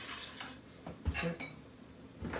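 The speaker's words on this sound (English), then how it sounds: "We're going to scrape the last little bit here." A spoon scrapes the last bits of food from a metal pot while cooking Hungarian dishes, making a few soft scrapes and clinks, quiet and close, with one sharper knock near the middle.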